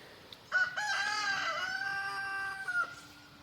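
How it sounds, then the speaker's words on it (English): A rooster crows once, loud and drawn out, over a quiet outdoor background. "And again, sorry about the roosters."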